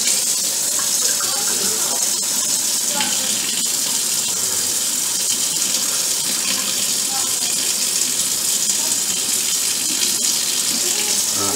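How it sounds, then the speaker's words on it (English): Water runs steadily from a kitchen tap into a cooking pot, a continuous broad hiss and splash that stays loud and even throughout while the pot fills. "Now we're going to add some water into that."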